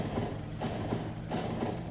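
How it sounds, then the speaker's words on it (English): A nuclear-fuelled personal train in Factorio picks up speed with a steady low rumble and rhythmic clickety-clack pulses repeating about every three-quarters of a second, heard alone without talk. "So I'm using the nuclear fuel now in my personal train"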